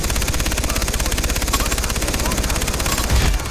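A mounted machine gun in Far Cry 3 fires in sustained rapid bursts, a dense rattling stream of loud shots that runs the whole time, with a heavier thud near the end.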